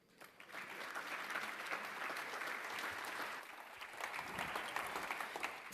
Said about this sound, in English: Please join us in another round of applause for this remarkable achievement